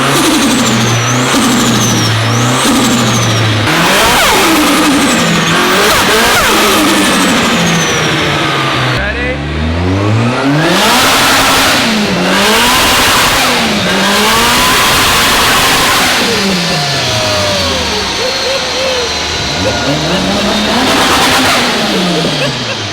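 A Nissan S13 on a dyno revs hard and loud, engine pitch sweeping up and down through repeated gear-like climbs and drops, with sharp rev-limiter style bounces and a continuous roaring tone throughout.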